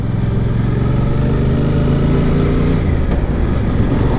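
A Suzuki GSX-8R motorcycle engine droning loud and close as the rider shifts up with the quick shifter, the steady engine tone dropping smoothly to a lower pitch near the end.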